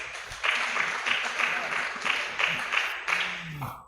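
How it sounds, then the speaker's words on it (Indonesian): Audience at an Indonesian election outreach event claps for a media partner, scattered applause in uneven bursts at moderate distance, fading out at the end. "Tepuk tangan dulu untuk Banjarmasin Post."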